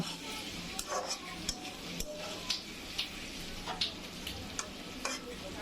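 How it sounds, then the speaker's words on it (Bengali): Quiet sizzling of flat beans and potatoes frying, broken by regular scrapes and taps of a utensil stirring against the pan. "আমি সিমালুটা নাড়াচাড়া দিয়ে একটু ভেজে নিয়েছি"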